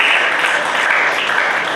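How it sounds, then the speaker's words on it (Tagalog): Church congregation clapping loudly together in praise, a dense, even burst of applause heard close and without pause. "Isang malakas na palakpak para sa Panginoon."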